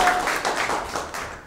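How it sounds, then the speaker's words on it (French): Audience at a French rap battle clapping briefly, a short burst of applause that fades out and stays fairly close. "on peut l'applaudir."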